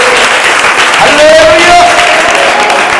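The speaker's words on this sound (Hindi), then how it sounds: "थोड़ा ताली बजा के प्रभु की महिमा करो" Worshippers at a church service clapping to praise the Lord, a loud continuous patter of hands with a sustained voice or tone rising through the middle.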